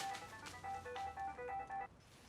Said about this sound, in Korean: 그 순간 시릴의 전화가 울리고